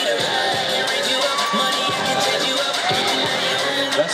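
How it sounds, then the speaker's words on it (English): Nighttime street party crowd outside Byblos in Glasgow, a steady roar of many voices with scattered whoops and cheers, loud and continuous, the crowd noise filling the whole scene. "there's a street party going on behind me"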